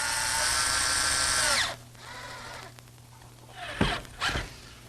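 A power drill drives treated screws into a redwood garden bench, a loud steady whining run for over a second that cuts off, followed by a quieter stretch and two short close bursts of the motor near the end.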